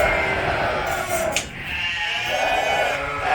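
Newly weaned lambs on a sheep farm bleat in a loose, steady chorus, with several overlapping calls at moderate distance and no talk over them.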